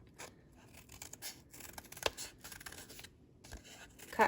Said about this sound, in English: Go ahead with your scissors and in just one cut